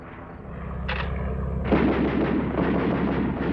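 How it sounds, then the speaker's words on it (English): World War I anti-aircraft guns fire from the ground at aircraft overhead, a dense rumble of booming artillery with a heavier burst of sharp reports joining midway, loud and continuous, with no voices. "Single aircraft were vulnerable to fire from the ground."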